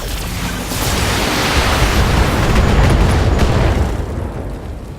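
A destroyed vehicle explodes in the mech combat game BattleTech, a loud, sustained rumbling blast of dense noise that swells and holds for several seconds before fading slightly.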